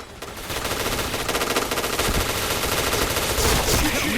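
Rapid automatic fire from an APC9 submachine gun in the shooter game Point Blank, a loud continuous rattle of bursts lasting throughout with no pauses, dense and close.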